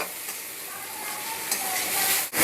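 Onions and spices for mutton curry fry steadily in a pan, a continuous close sizzle with soft stirring scrapes throughout and a brief dip near the end.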